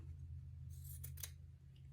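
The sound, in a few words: scissors trimming fabric selvage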